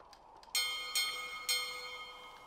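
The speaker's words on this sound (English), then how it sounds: "But if I ring the bell" A bell in The Journeyman Project 3 rings three times, clear metallic strikes with long sustained shimmering tones that overlap and fade, heard alone against a quiet background.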